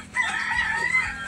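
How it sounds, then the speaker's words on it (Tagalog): A rooster crows loudly nearby in one drawn-out call, heard at night in the Philippines during a spearfishing trip. "Andyan na naman ang mga manok na ito."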